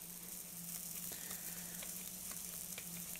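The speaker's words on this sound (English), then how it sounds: "Hear that sizzle." A fish and vegetable patty sizzles and fries steadily in a pan, a dense continuous crackle with scattered small pops, close and alone with no talking.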